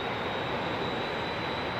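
A MiG jet engine runs at high RPM during a ground run with the plane held by wheel chocks, producing a loud, steady broadband roar with a sharp high whine above it and no break or talk.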